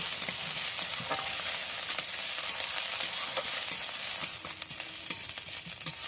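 Onion, chopped green chili and grated ginger sizzle steadily in hot oil as they are stirred, a close, continuous frying crackle that eases off slightly toward the end.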